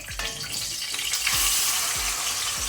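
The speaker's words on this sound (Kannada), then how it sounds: "ಈಗ ಫ್ಲೇಮನ್ನು ಲೋ ಅಲ್ಲಿ ಇಟ್ಕೊಂಡು ನಾವು ರುಬ್ಬಿದ ಮಸಾಲ ಹಾಕುವ" Ground masala paste (chilli paste) frying in ghee over a low flame for Mangalore-style country chicken urval, a steady close sizzle with a few soft stirring knocks, no talk.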